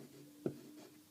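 A Sheaffer 100 pen with a fine nib writes with faint, brief scratching strokes, one sharper scratch standing out against a quiet background.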